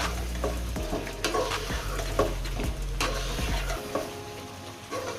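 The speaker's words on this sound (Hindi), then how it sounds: "अब हम इसको अच्छे तरीके से मिक्स कर लेंगे।" Chicken and spices for aloo chicken are stirred in a frying pan: loud, close sizzling with repeated scraping strokes of a spoon against the pan, in an uneven rhythm, with the hiss dropping off near the end.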